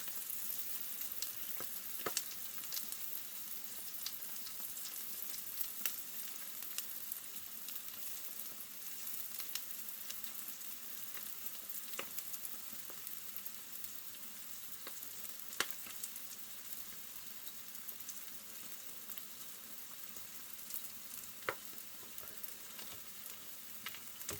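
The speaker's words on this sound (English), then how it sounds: "I'm sure you've got better things to do than watching me fry some eggs" Eggs frying well done in a pan, a soft continuous sizzle with scattered small pops and crackles, faint and steady, with no talk.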